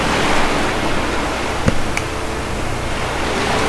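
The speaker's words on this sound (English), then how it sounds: "it looks like the water is very intense over here" Intense rushing water in Skyrim, a steady loud broadband roar like a torrent or waterfall, close and continuous, with a couple of faint brief clicks.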